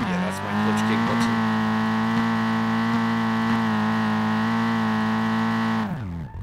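Nissan S13 engine in the SLRR driving game held hard against the rev limiter in second gear while drifting, a loud, steady, buzzing drone that holds for about six seconds before dropping off sharply at the end.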